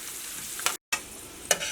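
Raisins frying in hot oil for biryani, a faint soft sizzle with a couple of brief stirring scrapes, close by and over in under two seconds.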